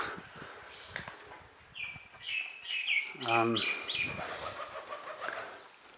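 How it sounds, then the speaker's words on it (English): Pigeons cooing and chirping at the Varaha Temple in Hampi, India, soft calls in the middle distance with a rapid burst and some fluttering, over outdoor ambience and faint distant voices. "Pigeons here."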